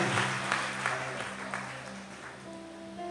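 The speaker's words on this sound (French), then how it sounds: "Applaudissez le Seigneur." A church congregation claps in praise, a fairly quiet wash of many hands clapping that fades gradually, with sustained music tones and faint voices underneath.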